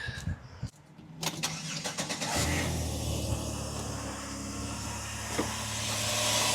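A Chevrolet Impala with an overheating problem cranks briefly, catches and settles into a loud, steady idle close to the microphone.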